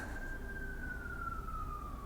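A faint distant emergency siren holds one long, slowly falling wail behind low background noise, with no talking.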